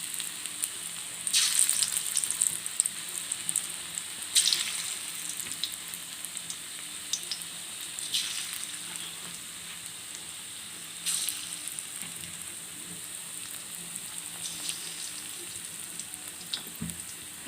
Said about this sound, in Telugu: హై ఫ్లేమ్లోనే మరిగించండి, లేకపోతే నూనె పీల్చేసుకుంటుంది ఎక్కువ